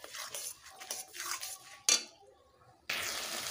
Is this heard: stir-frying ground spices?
yes